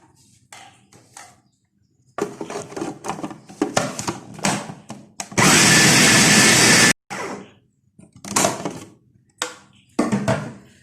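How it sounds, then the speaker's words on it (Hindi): An electric food chopper minces meat with lemon juice for malai seekh kebab, running in one loud, steady whirring burst of about a second and a half, framed by clattering knocks and handling noises. "थोड़ी सी देर के लिए चॉपर को चलाएंगे"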